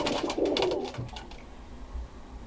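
Birmingham Roller pigeons coo in a loft, a low throaty burst of cooing up front followed by a softer coo later, close and clear with little else around.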